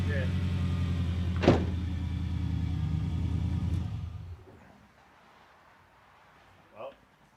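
Cold start of a Subaru WRX engine, a loud sustained rumble with a sharp peak as it revs to the limiter, then dropping away to a quiet idle with a faint brief knock near the end.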